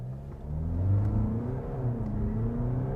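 A 2022 VW Tiguan Allspace facelift seven-seater accelerates hard toward 100 km/h, its engine a steady rising drone heard from inside the cabin. No voices are heard.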